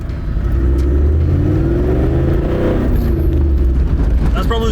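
A Toyota LandCruiser 76 engine revs loudly up close, a deep steady rumble rising and falling in pitch through a single sustained run, with speech mixed in.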